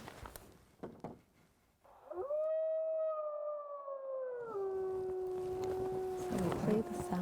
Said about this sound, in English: So we play the sound of howl because canids are territorial.